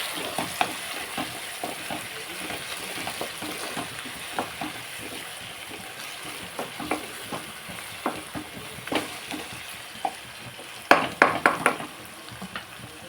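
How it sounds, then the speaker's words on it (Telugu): Onions and tomatoes cooking down in a pan for an okra curry give a steady soft sizzle, broken by scattered clicks and a burst of sharp utensil scrapes near the end, with no talking. "ఇదండి ఉల్లిపాయ టమాటా మగ్గుతుంది కదా"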